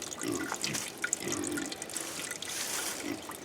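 Fresh apple juice pours and drips steadily from a homemade fruit press loaded with apples and spruce blocks, a continuous close trickle with small splashy drips throughout.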